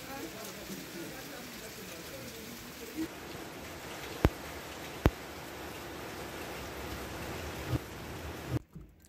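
Rain falls steadily after a drought, a soft continuous patter on surfaces with a few sharp close drips or taps cutting through before it cuts off abruptly at the end.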